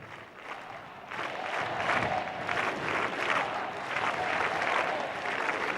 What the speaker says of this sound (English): And we hear the crowds.